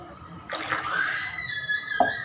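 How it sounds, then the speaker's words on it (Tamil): Water pours steadily into a pot for chicken soup for a couple of seconds, the pitch rising as it fills, ending with a brief splash. "வந்து குறைஞ்சது 4 லிட்டர் தண்ணி ஊற்றுங்க."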